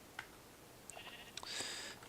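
A sheep bleats in a Minecraft modpack game, with a short nasal bleat near the end following a few faint clicks and blips, quiet and alone.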